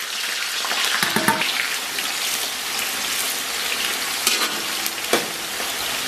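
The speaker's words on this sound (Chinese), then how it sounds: "油温三五成热，提前准备好的葱姜给它在里边" Scallion and ginger fry in hot oil in a wok, giving a steady close sizzle with occasional sharper crackles and spatters as they are stirred, with no talk.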